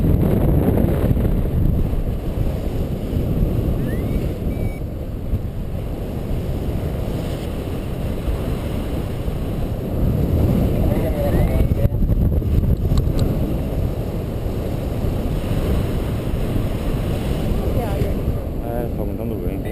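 Strong wind buffets the microphone throughout a paraglider's landing approach, a loud continuous rumbling roar with shifting gusts, while people talk over it at moments.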